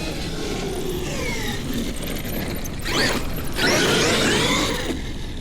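A Traxxas XRT or X-Maxx 8S electric RC monster truck runs flat out, its drivetrain whine and mechanical rattle steady throughout, surging louder and brighter near the end as it passes close by.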